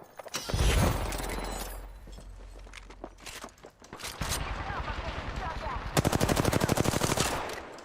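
Rapid bursts of gunfire in the video game Apex Legends during an arena match, loud automatic volleys with mechanical clatter and footsteps between them, ending in a fast, dense stream of shots.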